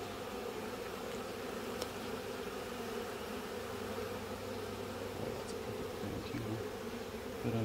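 Honey bees drone steadily at an open backyard hive, a dense, close, continuous buzz with individual bees flitting past, heard alone without talk.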